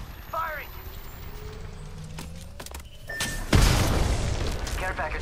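Gunfire in Apex Legends, with a few sharp distant shots followed by a heavy booming burst and continuing rumble of combat, under in-game voice chatter.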